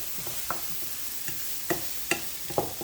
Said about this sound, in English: We're just soften these onions up, like I said, get them translucent a little bit